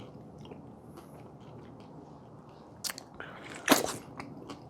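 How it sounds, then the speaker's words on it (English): Chewing yellow dragon fruit with its small seeds, soft wet mastication close to the mic followed by a few sharper crunchy bites near the end, with no talking. "When I find myself chewing it a lot to chew down these seeds."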